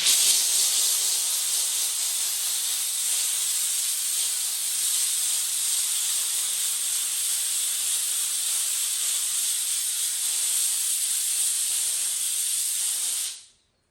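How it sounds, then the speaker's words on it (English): A handheld steamer blows a steady, loud, close hiss while loosening the adhesive of a carbon fiber spoiler being removed from a BMW F90 M5, then cuts off abruptly at the end. "Another steamer going."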